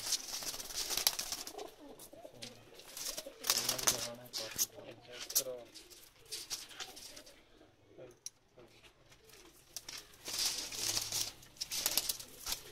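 Pakistani pigeons coo in low, rolling bursts amid clattering, rustling activity, with a person speaking intermittently over them.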